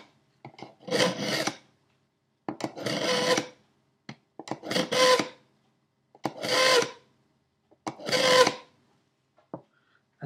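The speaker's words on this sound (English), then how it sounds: "So try it again in the knife sharpener." Knife blade drawn repeatedly through a Luxebell three-stage sharpener with emery, wolfram steel and ceramic slots, about six close, rasping grinding strokes separated by short pauses.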